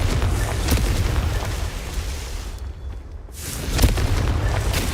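A Confringo blasting curse goes off in Hogwarts Legacy, a loud, sustained booming rumble of explosion with crackling debris, briefly dropping before surging again into a second burst.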